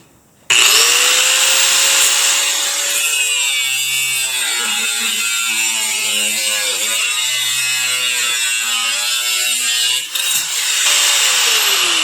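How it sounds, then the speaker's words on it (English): A Makita angle grinder fitted with a metal cutoff blade spins up to a loud, steady high-pitched whine and grinds through metal, the tone dipping and straining under load for about twelve seconds before winding down, with no talking. "Makita angle grinder. Use any kind of angle grinder you want."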